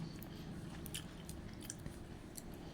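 Someone eats dried fish curry, with soft, faint chewing and biting sounds close to the mic over a low steady background.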